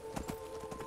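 Horse hooves clip-clop in the video game Skyrim, several quick close thuds in a brief run over a steady low background hum.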